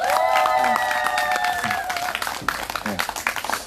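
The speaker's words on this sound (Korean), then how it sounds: "큰 박수 부탁드리겠습니다" Crowd at a Seongju candlelight rally claps after a song request. A voice is heard at first, then scattered applause builds and continues to the end.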